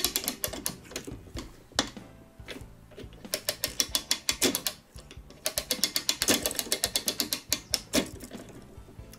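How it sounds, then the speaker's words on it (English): Winding the mainspring of a Korean 31-day wall clock under repair: rapid rhythmic ratchet clicks from the pawl in bursts of cranking, with brief pauses between turns, close and crisp, no talking. "And then start winding the spring up."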